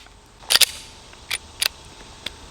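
A Glock 43X pistol fitted with an Arc Division slide fires five sharp, quick reports: a fast double, two more spaced shots and a final lighter one, all heard at a moderate distance over a quiet background.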